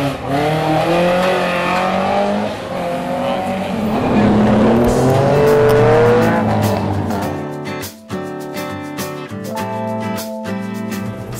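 Classic cars driving past at the Classic Days 2017 event at Schloss Dyck, loud close engines revving and accelerating in sweeping passes, one after another, with no talk over the roar.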